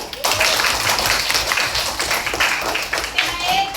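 A classroom of sixth-grade pupils claps together, a dense burst of applause that starts abruptly and holds steady for several seconds, with occasional voices mixed in.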